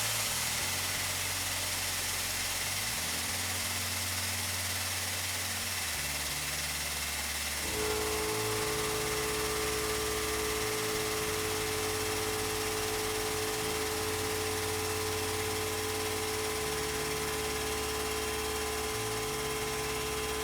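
An OEM Tools 20 ton air-over-hydraulic press pump runs continuously, a loud, steady mechanical drone with a rapid pulsing hiss of air; its tone shifts and a constant hum sets in partway through.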